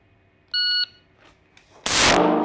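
A shot timer gives one short electronic start beep, a steady tone lasting about a third of a second. It is followed by a quiet pause, a couple of faint ticks, and then a loud burst of gunfire on a shooting range.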